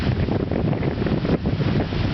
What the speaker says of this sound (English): Lots of wind, that's about it.